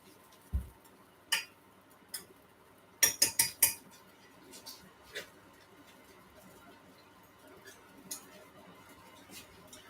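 A teaspoon clinks against dishes in a home kitchen during pancake making: scattered sharp metallic taps, with a quick cluster of clinks midway and fainter knocks after, fairly close and quiet.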